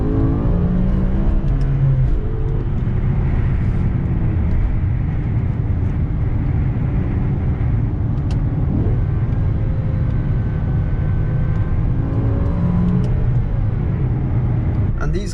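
A BMW E60 M5 with its V10 engine gives a continuous, loud, low drone that climbs in pitch near the end, heard steadily throughout.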